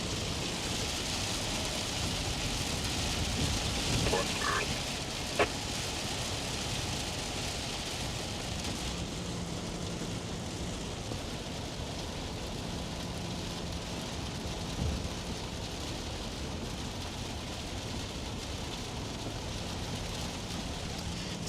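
Steady heavy rain falls during a morning storm in Illinois and Wisconsin, a constant hiss of drops with no voices and a couple of faint brief knocks.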